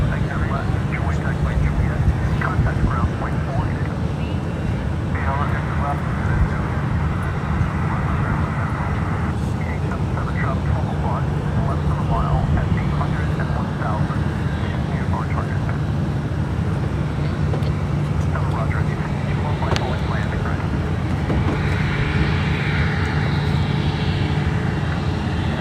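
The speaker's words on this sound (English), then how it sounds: "we have a Southwest Airlines arrival" A Southwest Airlines Boeing 737 MAX 8 arrives at Fort Lauderdale, its steady engine roar rumbling continuously and fairly loud across the whole stretch, mixed with outdoor traffic noise.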